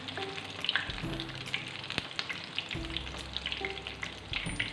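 Besan bhallay dumplings frying in oil over a medium-low flame, giving a continuous close bubbling sizzle with occasional clinks and taps, no talking.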